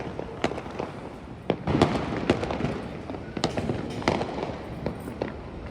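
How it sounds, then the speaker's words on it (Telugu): Diwali firecrackers burst in the neighbourhood, a rapid irregular series of sharp bangs and crackles at moderate distance, some louder pops over a continuous crackling background. "చూడండి బాంబులు ఎట్ట కాలుస్తుంటారు"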